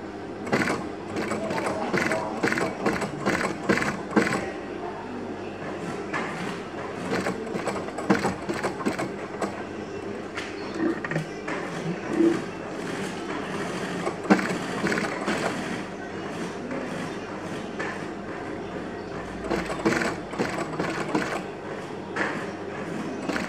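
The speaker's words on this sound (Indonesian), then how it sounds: "sekarang kita akan mulai untuk menjahitnya" A sewing machine stitches a sandal upper in bursts of rapid mechanical whirring and clatter, running steadily and close by with a voice talking over it.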